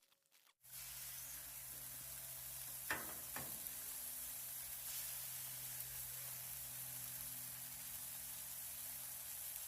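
Burger patties sizzling in a pan, a steady close hiss of frying that continues throughout after a brief quiet start, with a couple of faint knocks early on.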